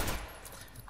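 Rapid game gunfire in First Assault Online, a dense burst of shots loudest at the start and continuing at a steady level through the moment.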